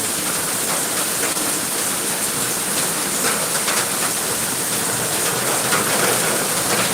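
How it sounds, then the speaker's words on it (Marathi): Steady broadband hiss of monsoon rain falling at a goat farm, a continuous wash of dense droplets with no pauses, alone without voices. "मस्त पाउस चालू है"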